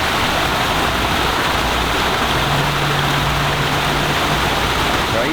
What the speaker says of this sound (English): That waterfall, I love the simplicity of it.